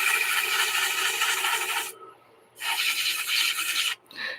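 A wooden lidded bowl is sanded with 100 grit sandpaper: two long, loud, close rasping strokes separated by a brief pause, then a shorter final burst, with no voices.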